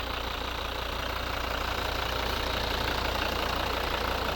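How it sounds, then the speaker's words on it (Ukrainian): The five-cylinder 2.0 D4 diesel engine of a 2011 Volvo V70 idles steadily nearby, a constant low rumble with a fine, even clatter and no voices. "знаменитий п'ятициліндровий двигун."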